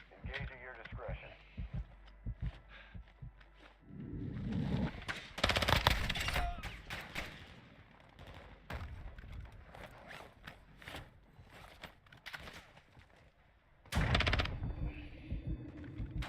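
Rapid shotgun blasts and gunfire in the video game DMZ, several sharp loud bursts with a heavy double blast near the end, set against game ambience and muffled effects.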